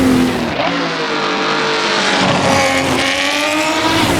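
Race car in Assetto Corsa, a world sportscar legends machine, roaring loud and close with a steady engine drone that dips as the throttle eases, tires faintly squealing through a corner.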